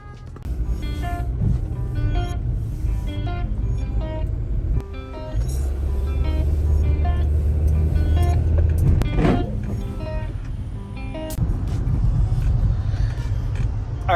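A car drives along a road, its steady engine rumble and road noise running continuously at moderate loudness, with a brief swell partway through and no talking over it.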